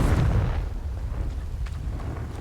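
A Confringo explosive spell blast from the Hogwarts Legacy video game bursts at the start, a deep booming hit that rumbles and slowly fades, with no talking.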